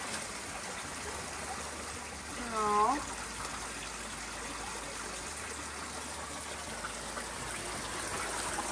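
Water trickles and drips steadily from a homemade table-style drum screen, a continuous soft splashing flow, with a brief voice heard over it.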